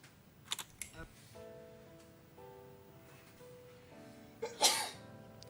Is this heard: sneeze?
yes